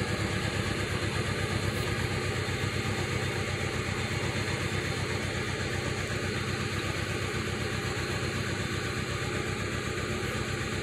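A 2000 Pontiac Sunfire with a new starter and cleaned valves idles rough while it waits on a replacement catalytic converter. The engine gives a steady, close, continuous rumble throughout, with no voices.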